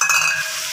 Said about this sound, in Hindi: अब हम इसके अंदर जो हमने हाफ और फ्राई करके आलू रखे हुए थे वो शामिल करते हैं और इसको अच्छे तरीके से भूनेंगे